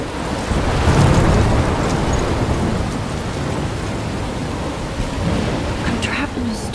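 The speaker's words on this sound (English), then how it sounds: "I'm trapped in a storm?" A thunderstorm in Life Is Strange: steady heavy rain hiss with deep rumbling thunder swelling early and lingering, noise broad and continuous throughout.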